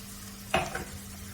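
A utensil stirs a spice mixture with coriander powder in a pan for egg bhurji, giving one brief scraping stir with a soft sizzle over a steady low hum.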